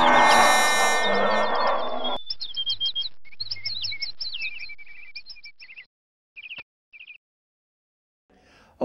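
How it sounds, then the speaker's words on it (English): Bright, high bird chirps and whistled trills follow a loud burst of mixed sound, then thin out into a few isolated calls separated by silence. "and the gentle sun will come up, and the birds will chirp,"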